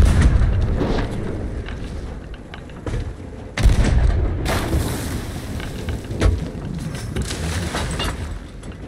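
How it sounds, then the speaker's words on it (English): Ship cannons fire in the pirate video game Sea of Thieves, several heavy booms landing a few seconds apart over a constant rumble of sea and ship ambience. "I'm gonna get on the cannon too."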